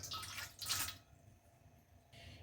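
Half a cup of water poured into a large mixing bowl in a home kitchen, two short splashy bursts close by, then a quieter trickle near the end, with no talking.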